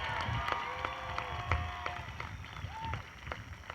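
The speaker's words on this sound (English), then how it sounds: "Let's give her a big round of applause." An audience at a high school graduation ceremony applauds, a faint, steady clapping wash in a large hall that continues for a few seconds under some crowd murmur.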